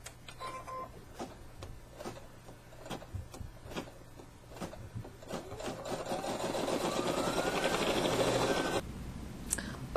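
Embroidery machine stitching a free standing lace angel in white thread: rapid rhythmic needle clatter that builds into a loud continuous whir, then stops abruptly near the end.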